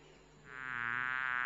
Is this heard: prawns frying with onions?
no